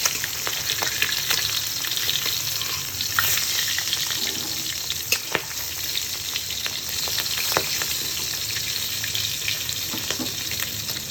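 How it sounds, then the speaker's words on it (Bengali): Fish pieces frying in hot oil produce a loud, continuous crackling sizzle for the whole stretch, with scattered sharp pops and spatters and no voices. "মাছগুলো খুব ভালো করে ভেজে নেব।"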